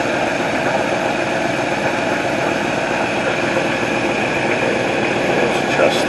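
A car engine idles steadily with loose, leaking throttle shafts, giving a constant, even rumble and broadband roar that holds level without revving throughout.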